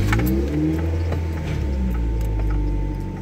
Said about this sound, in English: the car is actually running at a nice even maybe what 1500 RPM